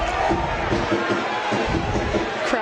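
A feisty stadium crowd at an age-grade rugby cup final roars continuously, with mixed cheering, shouting and jeers blending into a dense, steady wall of noise.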